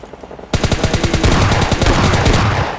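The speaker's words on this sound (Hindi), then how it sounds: "तभी चारों ओर से अगेन गोलियां आती हैं" Dense rapid gunfire erupts suddenly from all sides in a video game, a loud continuous burst of overlapping shots that runs for over two seconds with no speech.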